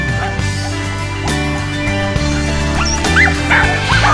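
Sled dogs at a mushing kennel in Ushuaia, several of them close by, barking, yipping and whimpering in an excited, overlapping chorus with a harmonic hum underneath.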